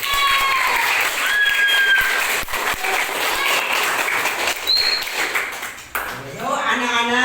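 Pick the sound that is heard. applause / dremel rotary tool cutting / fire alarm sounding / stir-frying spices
applause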